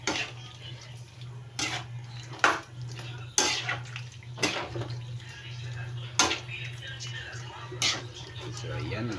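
Ginataang takig, a coconut-milk stew, stirred in a cooking pot: a utensil clanks and scrapes against the pot in irregular sharp knocks, about eight close, fairly loud strikes over a steady low hum and soft wet bubbling.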